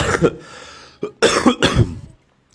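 Several harsh, close coughs come in quick bursts, separated by short pauses, then silence.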